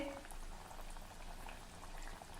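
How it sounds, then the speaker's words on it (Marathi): Pearl millet (bajra) kharoche frying in hot oil over medium heat, giving a faint, steady bubbling hiss with soft scattered pops and no distinct splash. "आता ह्या तेलामध्ये आपल्याला हे खरोचे घालायचे आहे"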